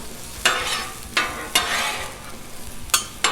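Peppers and onions tossed on a Blackstone griddle, with four or five sharp scraping bursts of spatula work over a steady close sizzle, no talking.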